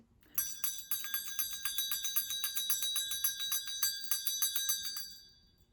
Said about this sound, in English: I'm just going to ring my bell